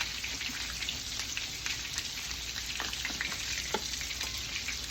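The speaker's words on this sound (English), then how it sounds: "We're going to fry these about 4 or 5 minutes until they get nice and brown." Salisbury steak patties sizzle steadily in a pan, a dense continuous crackle and spatter with scattered sharper pops, close and moderately loud, with no talk.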